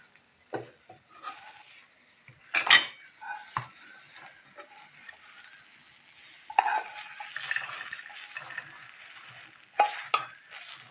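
Roasted peas being scraped and stirred out of a pan for a spicy Maharashtrian pea curry, giving soft scratchy rustles with a few sharper metallic clinks, moderately close and without talk.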